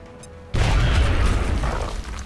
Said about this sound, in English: Al can throw a grenade. Throwing grenade.